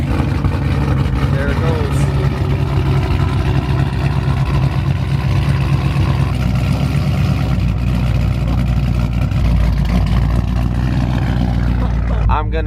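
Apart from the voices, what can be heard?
cammed, straight-piped SRT8 car engine cold start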